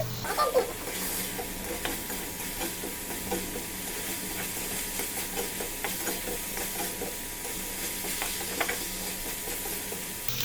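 Dried fish (shutki) with chili and salt, its water cooked off, gets stirred in a pan, giving a steady close sizzle and hiss with light scraping stirs throughout.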